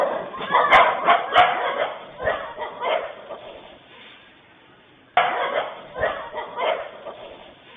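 Stray dogs bark in quick, sharp bursts while chasing a boy down a street, captured through a tinny CCTV microphone, with a short lull before another volley of close barking.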